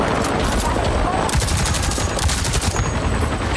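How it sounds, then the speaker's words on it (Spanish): Sustained machine gun fire in the video game Avatar: Frontiers of Pandora, aimed at exoskeletons: a loud, dense, continuous rattle of rapid shots that fills the clip, with little break. "Es que es potente, ¿eh? La ametralladora esta."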